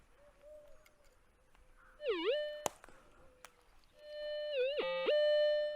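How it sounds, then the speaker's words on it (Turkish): A pulse-induction metal detector signals a metal target with two electronic warbling tones that rise and dip in pitch, clear and close, separated by a brief sharp click and a short pause. "Sesten de anlaşılacağı gibi şu anda bir metal algılaması gerçekleştirdik."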